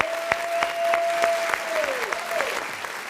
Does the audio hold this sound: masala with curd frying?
no